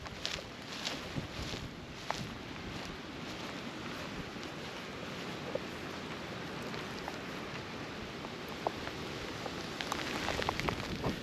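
Wind and rain during a hurricane in Orlando outside a house losing roof shingles, a steady dense hiss of rainfall with gusty rushing and scattered sharp drops throughout, no talk.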